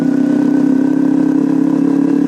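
A motorcycle fitted with a racing exhaust idles steadily nearby, a loud, continuous low rumble with a slightly throbbing, uneven pulse, out on a city road in Pangkal Pinang.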